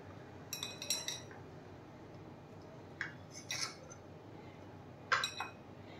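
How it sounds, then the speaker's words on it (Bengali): A knife cuts half-boiled, lightly fried eggs in half on a plate, giving a few quiet, close clicks and clinks separated by short pauses. "এবার আমি অর্ধেক করে করে কাটছি।"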